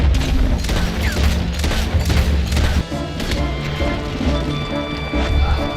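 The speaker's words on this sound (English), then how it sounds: "An explosion goes off in the distance, which gives Arthur time to take cover and start shooting." Gunfire and explosive booms crackle through a Red Dead Redemption 2 factory shootout, a dense rattling fusillade with a distant blast, loud and continuous under a speaking voice.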